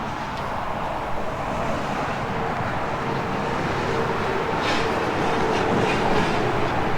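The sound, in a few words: highway traffic noise behind the camper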